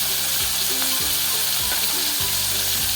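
Onion hits hot oil in a pan just after prawns were fried there, raising a loud, continuous sizzle, with repeated scraping stirs of a spatula close by.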